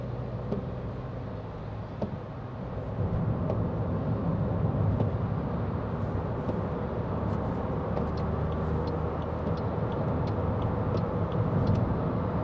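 A steady road roar from inside a 2014 Toyota Aygo 1.0 VVT-i on a wet motorway with spray and lorries, with constant tyre and wind noise at speed and faint ticks over the rumble.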